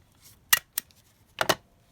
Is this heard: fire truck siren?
no